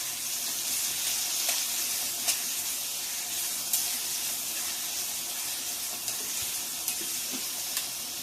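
Tomato, onion and green chili sauté in ginger-garlic paste for an egg biryani, giving a steady, even sizzle with a few sharp utensil clicks scattered throughout and no talking.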